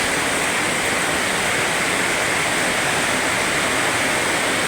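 Heavy nighttime downpour in Dasmariñas, Cavite, a dense, loud, continuous roar of rain with no breaks and no voices.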